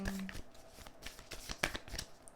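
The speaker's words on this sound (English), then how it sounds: "Tell me when to stop shuffling." Quick, papery riffling of a tarot deck being shuffled, soft flutters and taps close by, with a faint tone briefly at the start.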